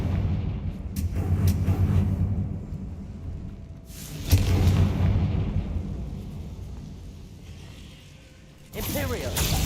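Confringo, a fire-blast spell in the Hogwarts Legacy video game, goes off as loud, broad explosive bursts with crackling tails, one near the middle and another at the end, over a steady rumbling game background.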